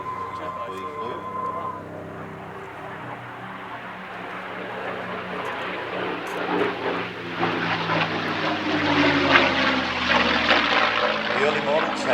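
A P-51B Mustang with a Merlin engine flies at an airshow, its broad propeller drone rising steadily in volume and filling the clip, with no voices heard.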